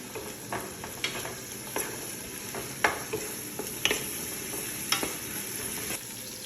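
Sliced onion fries in a little oil in a pan with a steady soft sizzle, broken by regular scraping and clicking from a stirring utensil.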